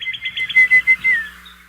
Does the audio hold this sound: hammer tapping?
no